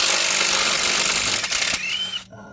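A power tool spins out the harmonic balancer bolts on a 6.0 Powerstroke diesel engine, giving a loud, steady whirring burst of about two seconds that cuts off abruptly into near silence.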